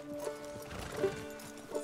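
Horse in Red Dead Redemption 2, with soft hoof clops and a brief snort or whinny at intervals, close and moderately loud in a quiet game scene.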